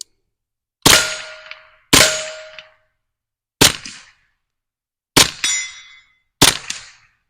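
Suppressed Stribog TR22 firing CCI Blazer 22 ammunition at over 1,200 feet per second: five sharp cracks at irregular intervals, each followed by a short metallic ringing decay, loud and close, with no talking.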